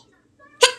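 A single sharp sneeze bursts out near the end after a quiet pause, brief and close.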